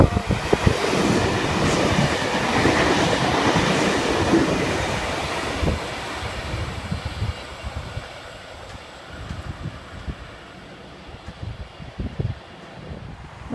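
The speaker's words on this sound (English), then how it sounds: "We've got a Blue Mountains V set about to pass platform number 3" A Sydney Trains Blue Mountains V set double-deck electric train passing a station platform, a loud rumbling roar with clattering wheels that gradually fades as it moves away.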